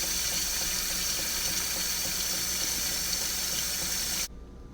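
Tap water pours steadily into a sink in a constant, close, broadband rush for several seconds, then stops abruptly, leaving quiet room tone.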